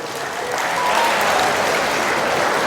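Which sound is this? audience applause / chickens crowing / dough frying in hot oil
audience applause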